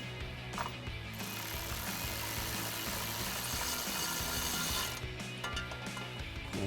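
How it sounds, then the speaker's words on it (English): Ratchet with an extension and 13mm socket clicks steadily while tightening a running board bolt on a 2019-2023 Chevrolet Silverado 1500, a continuous close mechanical ratcheting with no talk. "We'll go ahead and get our bottom one in again with our ratchet and extension"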